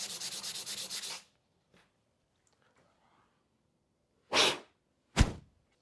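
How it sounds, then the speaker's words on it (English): Sanding on a guitar workpiece after branding with a custom Pittsburgh branding iron: a steady rhythmic rubbing scrape for about a second, then quiet, followed later by two short, louder sanding passes. "there's a lot of sanding gonna happen"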